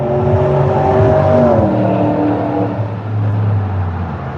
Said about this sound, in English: It's a speeding truck.